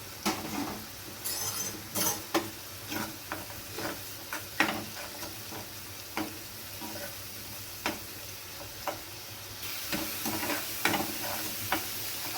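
Ginger-garlic paste frying with onion in a pan, a soft sizzle under repeated scraping strokes of a spoon against the metal, irregular clinks and stirs spaced every second or so, close and fairly quiet.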